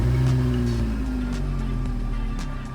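Engine of a Vauxhall Corsa C track car, heard from inside the stripped cabin while in neutral, as a loud steady low drone with faint pitch shifts. It fades slightly toward the end, with no voices.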